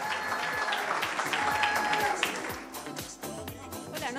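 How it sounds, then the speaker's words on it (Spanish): Audience applause at an awards ceremony, a steady wash of clapping with crowd noise and some voices mixed in, moderately distant. "Un aplauso para Mary Gana, vicepresidenta"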